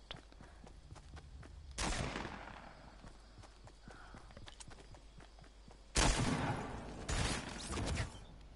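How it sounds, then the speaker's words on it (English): Gunfire in the video game Fortnite comes as a few faint, scattered bursts, one early and a cluster later, over a low, quiet background. "I can't talk right now, I'm being shot."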